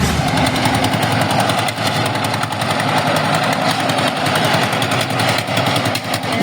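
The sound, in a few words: corn threshing machine running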